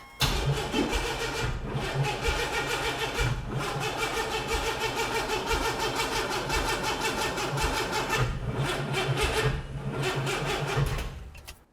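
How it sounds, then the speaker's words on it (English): A Chevrolet S10 truck's junkyard turbo engine cranks over continuously, loud and close, with a rapid rhythmic starter churn that runs for over ten seconds without clearly catching. "All right, crank it."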